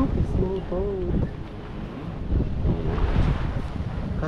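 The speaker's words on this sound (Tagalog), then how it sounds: "maulan at mahangin guys, pero super nice naman" Strong wind and rain on the shore at San Diego roar across the microphone in a continuous low rumble, with faint voices partly buried beneath it.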